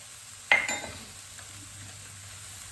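Onions cook in a pan, opening with a sharp clink and scrape of a utensil, then a low, steady sizzle that fades slightly and continues quietly, no talk.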